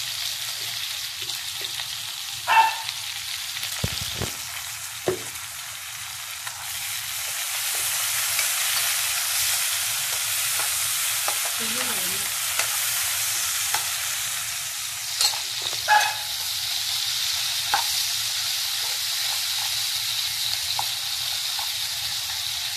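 Tomatoes and green chillies sauté in a pan for fish curry, a steady sizzling hiss that swells midway, punctuated by occasional spatula scrapes and knocks against the pan.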